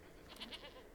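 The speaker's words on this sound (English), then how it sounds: "It wasn't a very good goat noise" Short goat bleat effect from the Scapegoat card in the Magic: The Gathering Arena video game, a brief wavering nasal bleat of two or three pulses, faint and thin, alone with no talk.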